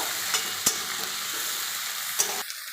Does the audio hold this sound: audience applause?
no